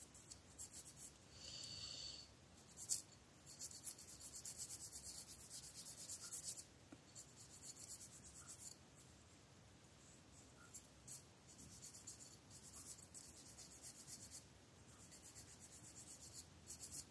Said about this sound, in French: je vais limer mes ongles. On va tester la lime.